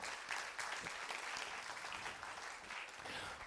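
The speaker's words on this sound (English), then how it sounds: "You should clap for your school again" A university audience at a TEDx event applauds steadily, a dense wash of many hands clapping at moderate volume throughout with no break.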